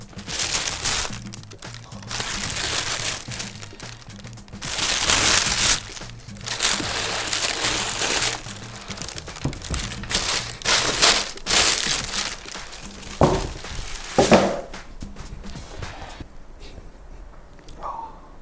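Packaging of a Dior x Air Jordan sneaker box rustles and crinkles as it is opened, in repeated bursts of close paper and plastic handling with a few sharper crackles, no talk.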